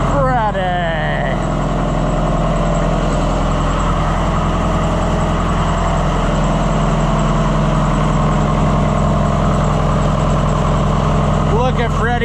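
An Oliver 1450 tractor engine runs steadily at a close, loud, even idle throughout, with voices talking over it at the start and end.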